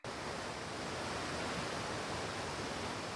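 Heavy rain and a fast-rising river make a dense, steady rushing hiss, a uniform wash of water noise with no breaks or voices, fairly faint overall.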